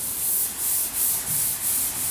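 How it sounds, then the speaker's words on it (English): Block sanding paint with 320 grit sandpaper on a car body panel, close, loud rhythmic rasping strokes in about six even back-and-forth passes. "we're block sanding with some 320 grit"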